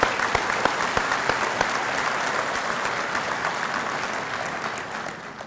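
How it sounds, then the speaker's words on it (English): Banquet audience at an anniversary dinner applauding: dense, sustained clapping from a large crowd filling the room, steady and loud before tapering slightly at the end. "Let's give them a round of applause"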